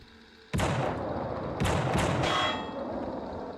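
Gunshots in the PS2 video game The Suffering ring out as three loud, sharp blasts with clanging metallic decays, the first alone and two more following in quick succession.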